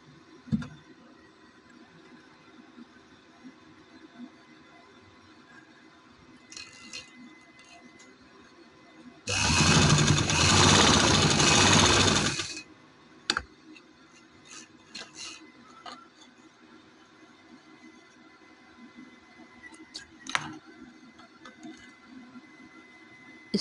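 A sewing machine stitching along a garment neckline runs in one loud, steady buzzing burst of about three seconds, set among quiet handling ticks and rustles.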